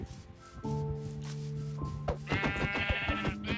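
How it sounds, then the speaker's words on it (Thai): Sheep bleating in the Minecraft video game, a series of nasal, wavering game-sound bleats repeating over a steady background of game music, loud and close with no talking. "เฮ้ยแกะ"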